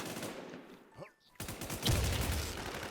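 Video game shootout gunfire, with rapid bursts of shots in the opening second and a loud volley again near the end, mixed with game noise and faint talk.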